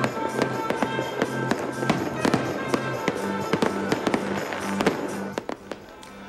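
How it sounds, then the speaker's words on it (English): Fireworks over frozen Lake Mendota at the Wisconsin Union's Winter Carnival, a steady stream of sharp bangs and crackles over a low rumble, fading toward the end. "Fireworks lit up the sky over a frozen Lake Mendota Saturday night."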